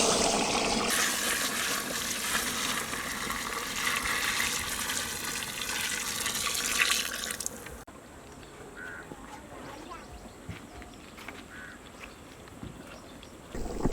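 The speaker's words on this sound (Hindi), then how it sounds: "जो पहले ही हम लोग प्रिपेयर करा हुआ चिकन स्टॉक को इसमें ऐड करेंगे।" Prepared chicken stock poured into a pot for chicken yakhni pulao, a loud continuous gushing pour lasting several seconds before cutting off to quieter bubbling and faint kitchen sounds.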